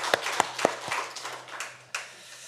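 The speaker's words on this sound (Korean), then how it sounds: "우리 하나님께 영광의 박수 올려드릴까요?" A church congregation at a Sunday worship service claps for God, a few sharp, separate handclaps at first, then a thin, scattered patter that fades, faint and unaccompanied by talk.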